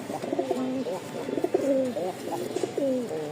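A male Rajshahi Ablak pigeon coos in repeated throaty, rolling calls close by, several phrases in a row with faint background noise between them.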